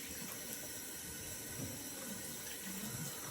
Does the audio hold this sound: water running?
yes